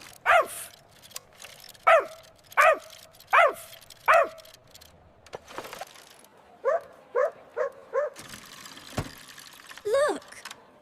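A small white puppy barks at a busy market, sharp yappy barks in a run of four evenly spaced yips, then a quicker cluster of short barks and a final whimpering bark, close and fairly loud over faint background noise.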